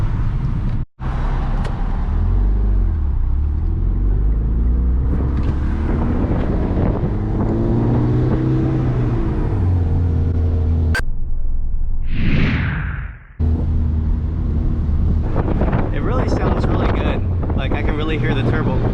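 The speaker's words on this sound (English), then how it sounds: "you can really hear the turbo a lot better when you're getting on it" A Mitsubishi Lancer Evo X with a new exhaust drives along, its turbo and exhaust droning steadily under heavy wind noise while someone talks over it, with a brief whooshing rise partway through.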